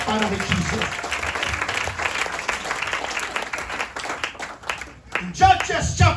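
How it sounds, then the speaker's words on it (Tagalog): Loud congregational applause fills a church service in Muntinlupa, dense clapping sustained for several seconds with voices mixed in, briefly dipping before swelling again near the end. "Malakas na palakpak para kay Jesus."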